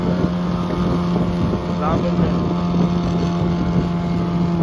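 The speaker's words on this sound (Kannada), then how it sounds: "ಈಗ ದೋಣಿ ಓಡಿದ್ವಿ" A motorboat engine runs steadily on the sea, a continuous low drone with a strong tonal hum, heard close with some wind buffeting the microphone throughout.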